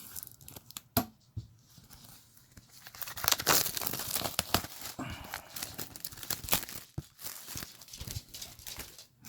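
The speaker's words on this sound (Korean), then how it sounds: "아트북 잠깐 한번 뜯어볼게요" Plastic shrink wrap being torn and crinkled off a Monster Hunter World collector's edition art book, close and fairly loud, with irregular ripping bursts and rustling handling noise throughout.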